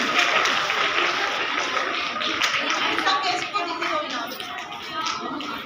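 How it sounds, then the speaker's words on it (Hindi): Schoolchildren clap for award winners at a Republic Day ceremony in Lohagal, Ajmer, a busy, steady crowd clapping with tapping and shuffling, and voices mixed in underneath. "जोरदार तालियां बजाते हो"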